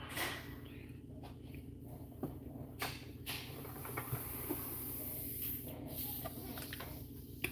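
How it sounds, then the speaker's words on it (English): An airbrush spraying brown paint for a custom portrait gives a steady, soft close hiss that runs throughout, with a few short breaks and faint handling sounds. "I'm just going to mix it with my airbrush."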